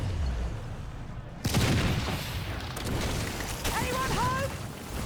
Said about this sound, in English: we're gonna just have to open up the main castle using the cannon here